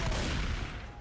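A quick burst of rapid gunfire in the Left 4 Dead 2 video game, with dense overlapping shots lasting about a second, loud and close, with no talking.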